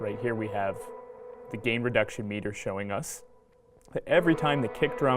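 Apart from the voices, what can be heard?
No everyday noise stands out behind the speech.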